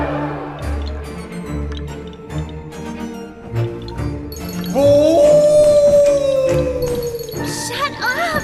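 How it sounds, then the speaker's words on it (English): A long, rising howl from the Puppeteer video game, sounding over tinkling, jingling music and busy game sounds, with a dog-like whimper near the end. "The howls grew closer and closer."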